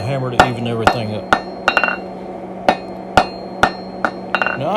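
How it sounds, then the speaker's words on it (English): A hammer strikes hot metal on an anvil about a dozen times while forging mantle hooks, sharp ringing blows at an uneven, working rhythm, loud and close. "we'll go over to the anvil and use the hammer to even everything up"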